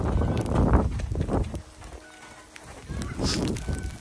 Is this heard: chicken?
yes